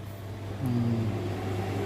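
A turbo broiler switching on after its button is pressed: a low motor hum rises into a steady whirring drone, close and moderate in level.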